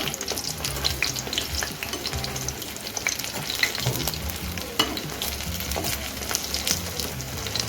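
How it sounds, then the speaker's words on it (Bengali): Pumpkin flower pakoras deep-frying in oil over a medium flame, a dense, continuous bubbling sizzle with occasional light clinks and scrapes, close and without speech. "এখন আমি গ্যাসটা লোটো মিডিয়ামে রেখে পকোড়াগুলো ভেজে নেব"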